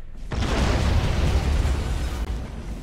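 Torpedo explosions in the space warfare game Battlefleet Gothic: Armada 2 begin after a brief silence and swell into a loud, sustained, rumbling roar of blasts that holds steady for a few seconds with no voices over it.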